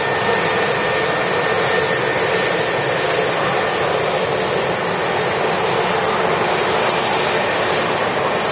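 An EasyJet A320neo-family jet at Manchester Airport produces a steady, broad engine roar that holds constant and fairly loud from start to finish.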